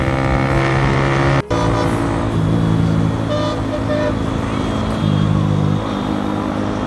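Motorbike riding along a road on a Sunday ride, engine drone and road rumble steady and close throughout, with a brief dropout partway and a faint horn-like tone.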